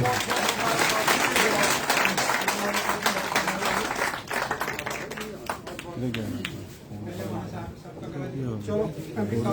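Applause from a crowd at a political felicitation event, clapping loud at first, with voices and talk rising over it as the clapping thins out.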